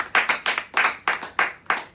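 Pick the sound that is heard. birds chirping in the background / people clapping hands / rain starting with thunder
people clapping hands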